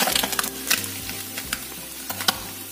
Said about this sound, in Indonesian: kita goreng yang selanjutnya